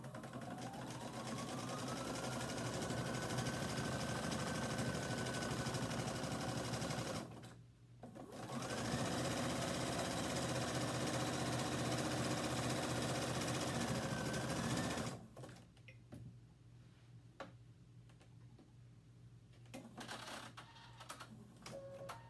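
Sewing machine stitching a zigzag seam finish on an open seam, running steadily and close for about seven seconds, pausing briefly, then running again until about fifteen seconds, followed by quiet handling sounds.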